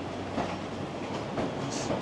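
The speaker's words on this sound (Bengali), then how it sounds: "ট্রেন আসলো" In Japan, a train rolls into a station with a steady, moderately distant rumble and soft rhythmic wheel clatter, a faint high squeal near the end, and no talking.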